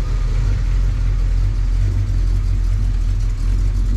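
A 1972 Buick Gran Sport Stage 1 engine idles nearby with a deep, steady low rumble and a slightly lumpy cam pulse, with no talking.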